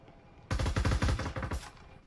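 A close, rapid burst of automatic gunfire in the tactical VR shooter Breachers during a competitive match, a dense string of loud shots lasting about a second before cutting off.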